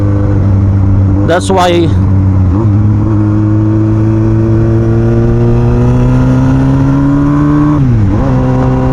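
A 2002 Yamaha YZF R1 sport bike pulls hard through the gears. Its engine note climbs steadily and loudly, then dips sharply at a shift near the end before rising again. A voice speaks briefly at the start.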